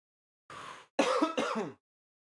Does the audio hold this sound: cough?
yes